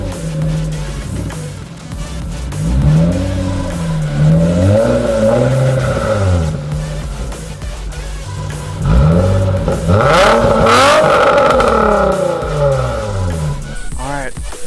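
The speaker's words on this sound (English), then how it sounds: "that's kind of weird what the RPMs are doing. You see how it's like bouncing like that?" Nissan 350Z engine idling roughly, its revs rising and falling in repeated slow swells rather than holding steady, heard close and loud with no talk over it.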